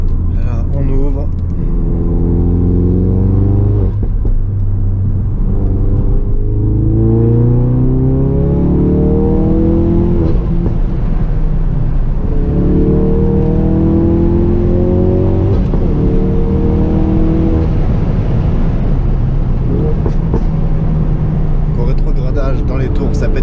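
A Ford Focus RS mk3 engine revs repeatedly up and down, loud and close, in rising sweeps with crackling exhaust pops between them.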